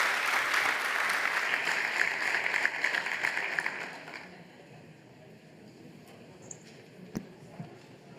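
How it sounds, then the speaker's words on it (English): An audience at the Berlin Global Dialogue 2024 conference applauds panelists, loud sustained clapping for about four seconds before fading to quiet room tone with a few faint knocks. "Please give them a big round of applause"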